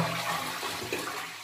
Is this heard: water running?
yes